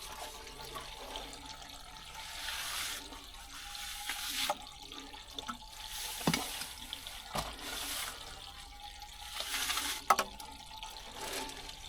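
Water runs steadily through a pipe at a site being dug out of granite, a soft continuous trickle and splash with occasional louder knocks and clatters, heard up close and without talk.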